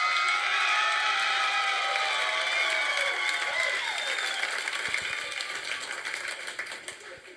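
A large crowd applauds loudly and continuously, with cheering mixed in, the clapping gradually thinning toward the end.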